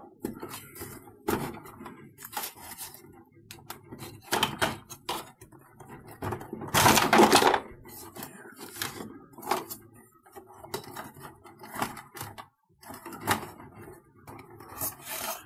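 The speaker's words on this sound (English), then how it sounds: "What's making all that noise is there's a dog crate or kennel, a cage," Scattered rustling, scraping and knocking sounds come from a dog moving around in a crate on a hard surface, with a louder burst of rattling midway.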